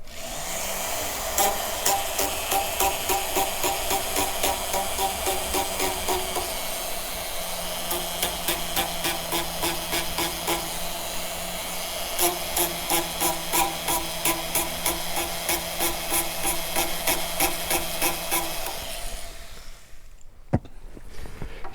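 Steady high-pitched whine of a rotary grinder working down a cobalt chrome ring inlaid with marble and emerald, running continuously with rapid rhythmic chatter, close and loud, then cutting out near the end.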